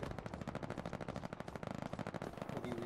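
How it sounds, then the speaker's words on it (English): Rapid machine-gun fire rattles without pause in the video game Hell Let Loose, with dense overlapping shots at a moderate distance and a low rumble underneath. "Oh, getting shot at?"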